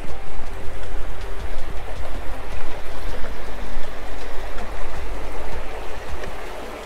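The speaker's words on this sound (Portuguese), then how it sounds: "Ah, que gostoso esse barulhinho da água" A small outdoor mountain stream gurgles and splashes continuously, loud and close, with a fluttering, uneven rhythm to the flow.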